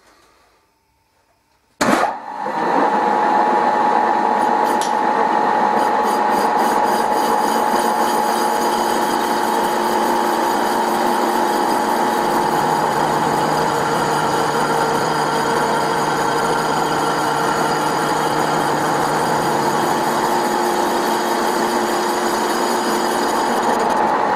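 A cast iron brake disc being machined on a lathe, a steady loud tonal cutting whine with a harsh grinding edge that starts abruptly after a brief silence and runs continuously, with no talking.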